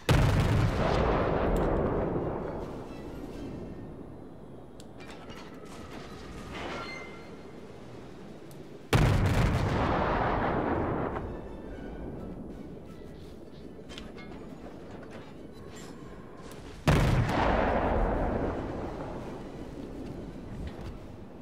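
Three heavy warship gun salvos boom in World of Warships, each blast clear and loud, then a long rumbling decay. They come at slow, evenly spaced intervals roughly eight seconds apart.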